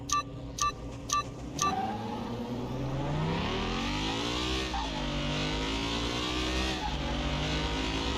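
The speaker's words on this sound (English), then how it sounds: "This is a turbocharged inline 4 dual overhead cam." A turbocharged inline-four DOHC engine in Car Mechanic Simulator 2021 revs hard through rising and falling gear changes, a loud continuous whine, after four short beeping countdown tones at the start.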